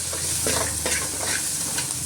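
Finely chopped onions, salted, sizzle in hot oil as a spoon stirs them around the pan in brief scraping strokes, close and steady.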